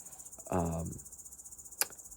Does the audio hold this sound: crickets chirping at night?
yes